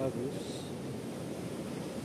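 Ocean surf at Ungapan Beach in South Malang, a continuous wash of waves breaking at the shoreline with wind noise against the microphone.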